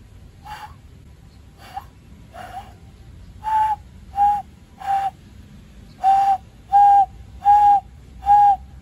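A hand ocarina, cupped hands blown using only the upper lip and tongue, gives a string of short breathy whistle-like notes, sparse and faint at first, then steadier, louder sustained tones close up.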